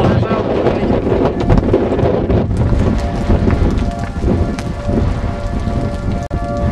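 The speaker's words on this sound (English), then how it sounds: "This hail is small." Small hail and gusting wind from a tornadic supercell in western Oklahoma batter the microphone in heavy continuous rumbles, with scattered ice pellets ticking throughout and a voice speaking briefly.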